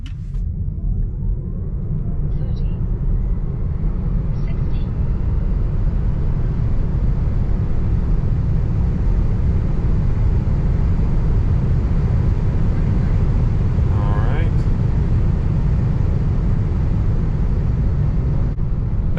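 A 2024 Tesla Model 3 AWD electric car pulls away from a stop, giving a steady low road rumble with tire and wind noise that holds loud and even throughout, with a faint rising whine partway through.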